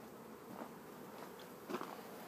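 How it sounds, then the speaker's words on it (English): Honey bees buzz softly on a hive frame during queen rearing, a faint steady hum with a few slightly louder passes close by. "the bees are obviously covering them and working on them"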